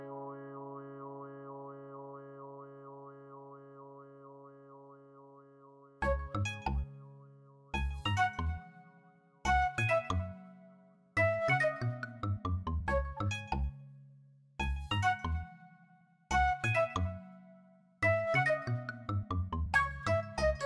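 A mobile phone rings with an incoming call in a home, a sustained melodic tone at first, then a series of bright, bouncy tune phrases repeating in bursts with short gaps, loud and close, with no talking.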